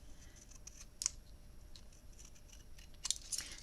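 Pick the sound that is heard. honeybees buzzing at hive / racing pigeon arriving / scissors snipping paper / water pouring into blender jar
scissors snipping paper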